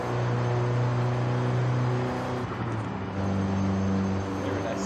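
A Mini John Cooper Works GP engine in a racing video game, driven with manual gears and clutch, hums and drones steadily, its pitch shifting as it revs and eases off; a voice may murmur underneath.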